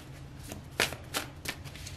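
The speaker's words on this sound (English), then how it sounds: "Let's shuffle." A deck of cards being shuffled close by, with several crisp riffling bursts over a low hum, no voices.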